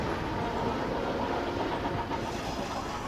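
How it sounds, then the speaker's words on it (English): A train rolls along in the video game Chris Sawyer's Locomotion, a continuous rumbling rail and engine drone that holds steady and fairly loud throughout. "another empty train going in, another full train going out"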